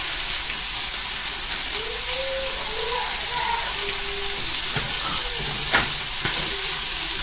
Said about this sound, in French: Et faites griller du lard ou des lardons.